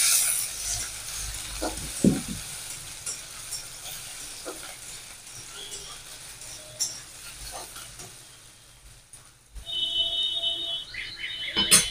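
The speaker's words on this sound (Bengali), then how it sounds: "আলুটা দিয়ে একটু নেড়ে চেড়ে নেব।" Diced potato pieces stirred in a frying pan for a spicy suji dish, giving a steady low sizzle with occasional scrapes and clinks of a spoon against the pan.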